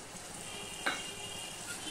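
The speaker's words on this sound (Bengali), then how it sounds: "মশলাটা ভালো করে কষিয়ে নেব।" A spice masala with Kashmiri chili powder and a splash of water sizzles quietly in the pan, a faint, even hiss with one brief stir or clink.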